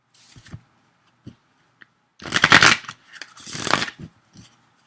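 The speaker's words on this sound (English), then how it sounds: "I'm shuffling both decks" Two decks of tarot cards shuffled by hand: a few soft taps and slides, then two loud riffling bursts of about a second each, close up with no talking.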